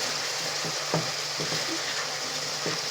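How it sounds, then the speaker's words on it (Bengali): Beaten egg fries in a pan with a continuous soft sizzle, punctuated by a few gentle, evenly spaced taps and scrapes of a utensil stirring. "এবার নাড়াচাড়া করে সুন্দর করে নাড়াচাড়া করো,"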